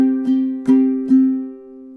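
Three crisp ukulele strums of measures 29 and 30 from a song follow one another steadily, close and solo, the last chord left ringing to fade.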